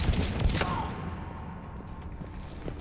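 Gunfire from the video game Mass Effect 3 during a fight to retake a headquarters, with a dense early burst of shots giving way to a steady crackling firefight and scattered later reports.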